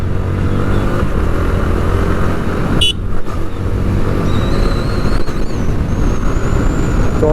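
Yamaha R15 V4 motorcycle engine running loud and close, with a brief break at a clutchless quick-shifter upshift from first to second gear as the revs climb again.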